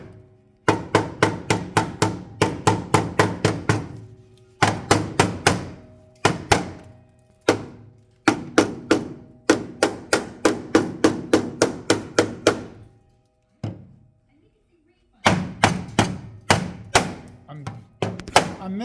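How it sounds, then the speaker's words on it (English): Loud, ringing hammer blows flatten the flange of a steel floor panel against a floor rail, arriving in quick clustered volleys with brief pauses throughout, struck close by. "You can just hammer that flange down."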